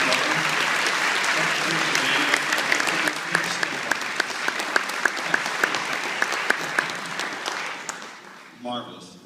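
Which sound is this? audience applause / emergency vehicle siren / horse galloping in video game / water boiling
audience applause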